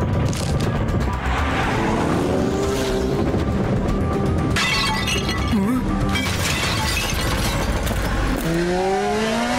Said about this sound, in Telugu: బయట ఇంత వేగంగా ఎవరు బైక్ నడుపుతున్నారు?